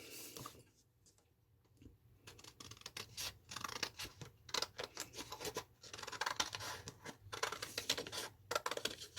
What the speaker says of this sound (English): I've drew half a heart, and we're going to cut that out.